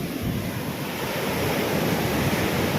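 Rough sea driven by a typhoon roars continuously, a dense wash of crashing surf mixed with gusting wind buffeting the microphone, loud and close with no pauses.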